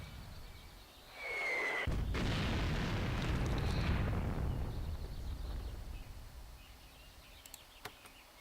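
Gunfire and a booming explosion from the Greed Corp strategy game, a sharp attack followed by a long rumbling blast that slowly fades, with no talking.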